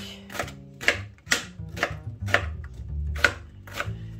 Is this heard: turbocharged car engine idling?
no